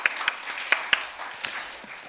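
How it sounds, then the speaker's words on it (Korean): Church congregation at a Sunday service gives brief applause of thanks, a scattered run of individual claps that thins out within two seconds. "우리 다시 한번 감사의 축복의 박수 드리겠습니다."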